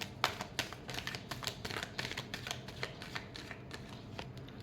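Tarot cards being shuffled by hand in a rapid run of crisp riffling flicks and soft taps, close and fairly quiet, with no talking.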